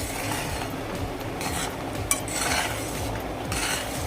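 Rice being stirred continuously in a pot for rice and jaggery kheer, with soft scraping and an occasional spoon clink against the pot under a steady low simmering rumble.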